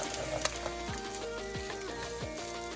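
Two cups of cooked rice go into a hot pan with cooked onions and garlic for fried rice, giving a steady close sizzle with soft scraping and stirring sounds.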